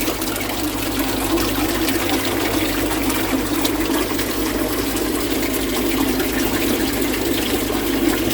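Water runs steadily into a garden pond filter container, a constant close rushing trickle with no pauses, heard alone for the whole stretch.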